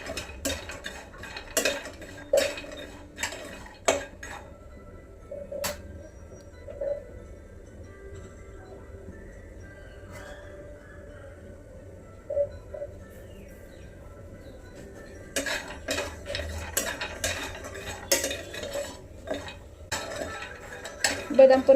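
Almonds roasting until crisp in a pan for dry-date and coconut laddoos, with scattered metallic scrapes and clinks of a stirring spoon, busier at the start and end and quieter in the middle.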